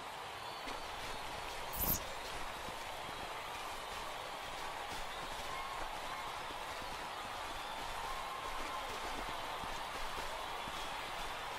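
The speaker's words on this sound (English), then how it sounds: "There is rain in the area" Steady rain ambience in the MLB The Show baseball video game, a continuous broadband hiss of falling rain with a brief louder thump near the start, evenly sustained throughout with no talk.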